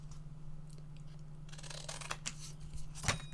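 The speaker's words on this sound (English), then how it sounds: "I'm going to cut a little section for there" Scissors snipping through paper while a mini memory book is being made, a few short crisp cuts near the end after quiet handling noises, close and fairly soft, with no voices.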